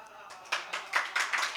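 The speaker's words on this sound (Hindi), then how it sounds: "तालियां कमजोर हैं।" Sparse, thin clapping from a small audience at a ghazal poetry recital, a handful of scattered claps in separate bursts that start after a quiet moment and stay light.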